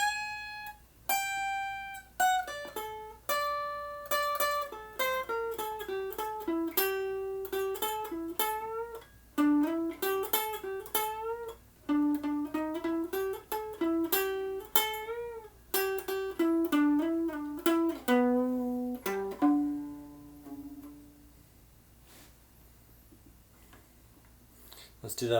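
Electric guitar playing the first solo lick of a song, a steady run of bright picked notes with slides and bends, close and clear, ending on a sustained ringing note with no voice over it.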